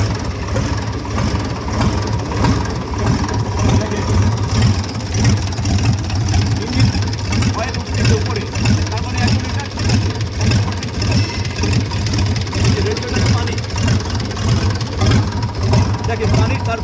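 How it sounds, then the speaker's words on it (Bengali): An overhauled engine, presumably a boat engine with water circulation, running at idle with a steady low throbbing rumble, loud and close, continuing without change for the whole stretch. "তো আমরা এখন ইঞ্জিনটা স্টার্ট করব।"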